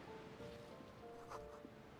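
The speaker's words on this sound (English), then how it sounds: "Waves crashing in the darkness." Waves crashing in darkness in the video game Disco Elysium, a very faint, steady wash of surf with a low tonal hum, distant and quiet throughout.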